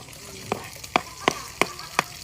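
Garlic and onion sautéing in a hot pan, a steady close sizzle broken by five sharp, evenly spaced clacks of a utensil scraping and stirring, with no talking.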